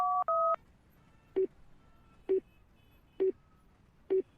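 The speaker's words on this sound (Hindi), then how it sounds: "मैं कॉटेज के केयरटेकर को कॉल कर रहा हूं, लेकिन उसका फोन ही नहीं लग रहा।" Two quick keypad dial tones on a phone, then a short beep repeating four times at a slow, even pace, as a call fails to connect.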